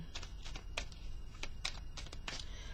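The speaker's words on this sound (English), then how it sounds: "I'm just going to shuffle the cards a little bit more." Tarot cards being shuffled by hand, a run of quick soft riffling clicks and flicks at close range, fairly quiet with no talking.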